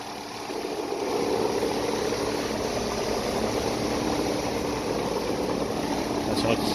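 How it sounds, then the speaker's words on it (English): A Ruud air conditioner's outdoor fan runs on high speed with a steady, loud whooshing drone that holds constant throughout. "It's on high speed. The fan should be blowing pretty good."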